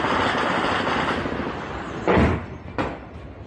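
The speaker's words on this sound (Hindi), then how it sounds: "ताबड़तोड़ गोलियों की ये आवाजें जम्मू कश्मीर के तंगधार से आ रही हैं।" Gunfire at Tangdhar on the Line of Control in Jammu and Kashmir: a sustained rumble of distant shooting, then two sharper, louder bursts stand out near the end.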